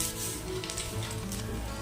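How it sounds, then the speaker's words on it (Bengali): Two dried red chillies dropped into hot oil give a steady, close sizzle that hisses continuously with a faint crackle and no talking. "এখন দিয়ে দিচ্ছি শুকনো লঙ্কা 2টো"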